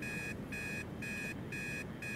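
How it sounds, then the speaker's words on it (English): An alarm clock rings in the ghost-hunting video game Obsideo with a steady, repeating electronic beep pattern of evenly spaced pulses, heard alone at low volume. "which is ringing the alarm clock"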